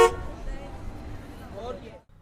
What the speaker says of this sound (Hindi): गाड़ियों की हॉर्न की आवाज़